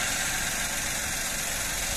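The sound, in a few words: Toyota Aygo 1 litre petrol engine idling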